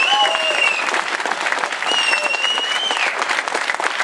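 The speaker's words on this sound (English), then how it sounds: "I want a round of applause for all of these people." Rally crowd outside the New Hampshire State House in Concord applauding veterans, loud sustained clapping from a large group with whistles and cheers rising over it throughout.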